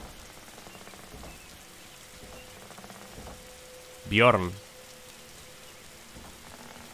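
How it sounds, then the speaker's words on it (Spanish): Rain falls steadily in the video game Malus, a soft continuous patter heard throughout, briefly covered by a loud spoken word partway through. "Escucha, escucho lluvia, pero no la veo."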